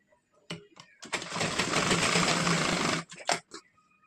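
Sewing machine stitching a waistband strip for a three-piece princess-cut blouse, running in one steady loud burst of about two seconds, with short clicks and handling noises before and after.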